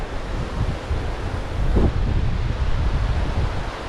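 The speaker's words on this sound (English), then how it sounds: "it's quite windy here" Strong wind buffets the microphone in steady, rumbling gusts at a seaside port in Alcudia, Mallorca, in winter, with a faint wash of surf in the background.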